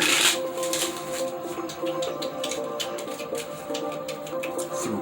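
Tarot cards being shuffled by hand in a steady riffle of crisp, papery flutters and taps, close and moderately loud over a soft tonal background hum, with no voices.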